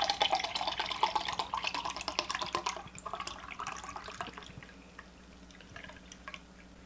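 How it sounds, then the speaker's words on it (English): Canned boba tea is poured into a glass with a splashy, bubbling gurgle that starts loud, breaks into glugs and drips, and fades into scattered faint trickles. "I will pour it into a glass and we'll see if all the bobas are in there"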